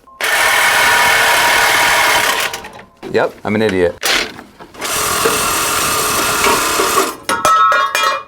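A power tool grinds and cuts loudly through the exhaust of a crashed Audi R8 in two long bursts, with a short spoken remark in the gap between them.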